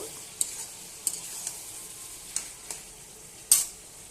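Mutton stir-fried in oil in a pan after the water has dried off and the oil has separated, with a soft steady sizzle and several sharp spatula scrapes and clacks at irregular intervals, close by with no talking.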